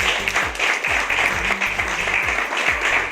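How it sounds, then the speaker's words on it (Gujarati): An audience at a team coordinator event breaks into sustained, dense applause, with many hands clapping together at close range for the whole stretch. "એ ટીમ માટે જોરદાર તાળી પડી જાય"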